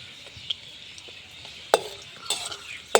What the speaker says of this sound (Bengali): বাদামগুলো লাল লাল করে ভাজা হয়ে গেছে